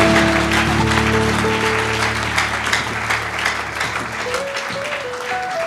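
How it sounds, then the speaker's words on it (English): Church congregation clapping hands together in a dense, continuous round of applause, with sustained organ or keyboard tones underneath that fade toward the end. "Can you clap your hand for Jesus?"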